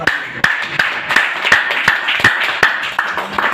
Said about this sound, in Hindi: सिद्धार्थ सर के लिए तालियां